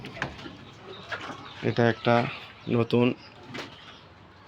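Pigeons in a pigeon house, coos coming in two short pulsing bursts partway through, close and fairly clear, with someone talking over and around them.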